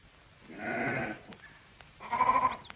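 Two separate sheep bleats, each lasting about half a second to a second, with a brief pause between them; fairly close and clear, no voices.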